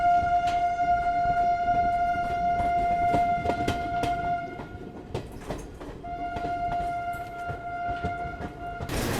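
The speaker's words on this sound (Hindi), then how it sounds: "बाकी अब आप ट्रैक साउंड सुनो जब ये ICF कोचेस 130 की रफ्तार में चलती हैं" An Indian Railways Garib Rath express of ICF coaches runs at about 130 km/h, giving a steady, loud rumble and rattle along the track with a sustained tonal whine that drops out briefly midway.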